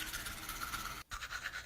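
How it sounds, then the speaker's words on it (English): A toothbrush scrubs teeth in quick, scratchy back-and-forth strokes, faint and close, with a brief pause partway through before the brushing resumes. "It's toothbrush time."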